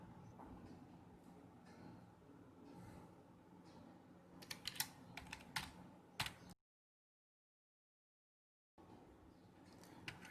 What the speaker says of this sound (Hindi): अब सबसे पहले टैब दबाएंगे